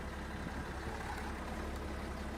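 A tractor engine idling in the video game Farming Simulator 22, a steady low rumbling drone with no change in pace, heard alone.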